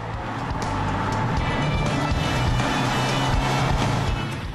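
A 1954 Volkswagen Beutler convertible, a rare coachbuilt VW, with its engine droning steadily and loudly at close range, a constant low rumble with no talking over it.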